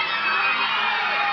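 Steady crowd applause and cheering from an audience honouring people at a community event, a dense, even wash of clapping throughout.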